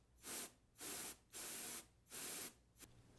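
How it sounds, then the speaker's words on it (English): A can of compressed air duster blasts into a gaming computer's fan in four sharp, even hissing bursts separated by brief gaps, close and loud, with a tiny fifth puff at the end. "Grab your dust-off gaming duster, and blowing from the inside out"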